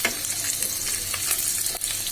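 Shrimp fry in a hot pan with a loud, continuous sizzle and crackle, broken by light stirring scrapes, with no voices.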